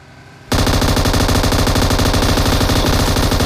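Gunfire in a video game breaks out abruptly after a quiet moment and becomes a loud, continuous burst of rapid automatic fire, with no talking over it.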